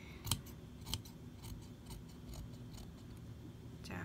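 Scissors snip through fabric while a dress is being altered at the sleeve, with a couple of crisp clicks followed by a run of faint, steady cuts, quiet and close.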